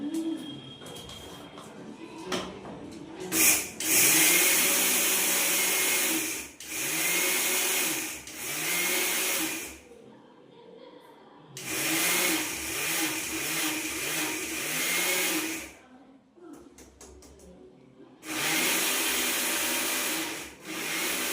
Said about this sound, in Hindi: तो इसको भी डाल दिया है मैंने मिक्सर के जार में, और अब मैं इसको भी पीस के तैयार कर लूँगी।